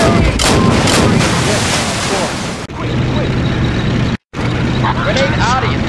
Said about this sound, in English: Artillery barrage confirmed.